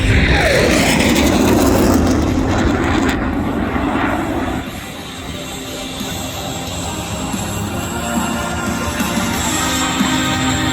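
An F/A-18 Classic Hornet jet slows for a low pass at an air show display, a loud roaring engine rush that drops back to a steady, sustained jet rumble.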